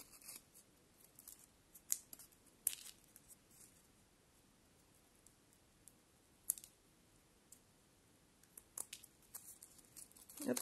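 Scissors snip through paper while cutting out a paper tiger paw shape, a series of sharp, close clicks and crisp snips spaced irregularly, quiet and alone with no talking.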